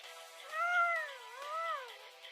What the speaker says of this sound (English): Why does your cat just make sound effects?